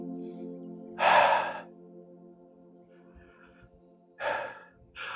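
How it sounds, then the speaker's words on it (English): A person breathes in and out during a yoga session, with two distinct loud breaths spaced a few seconds apart, then a shorter third, close to the mic over a faint steady hum. "I'm gonna breathe in and out."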